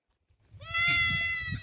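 A single goat bleats once, a short nasal wavering cry close by against a quiet outdoor background.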